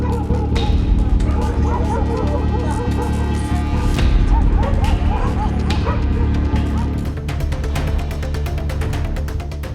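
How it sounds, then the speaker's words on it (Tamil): A pack of more than ten dogs chases a bear through a dairy complex area, barking, yipping and whimpering in rapid overlapping bursts that run continuously at close range. "ஆவின் வளாக பகுதியில் உணவு தேடி உலாவந்த கரடியை 10க்கும் மேற்பட்ட நாய்கள் துரத்தின."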